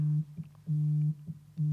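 A Skype incoming call ringing on a computer: a steady electronic tone in long, evenly spaced pulses with short warbling gaps between them, clear and alone.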